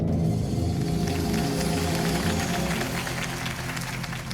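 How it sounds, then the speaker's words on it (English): Crowd applause from the Batman: The Telltale Series video game, a steady wash of clapping that holds for several seconds and then tapers slightly toward the end, with no speech over it. "If only Mr. Wayne, my campaign's largest backer, could have heard that applause"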